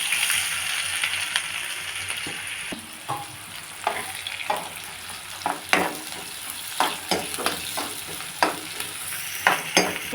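Onions and green chillies frying in a pan for ragi flour uppuma, a steady crackling sizzle with repeated sharp scrapes and taps of a spoon on the pan, close up, with no talking.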